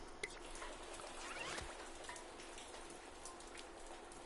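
Rain in the video game Dreams falls as a soft, steady patter of drops with scattered sharper ticks, quiet and continuous throughout, no speech.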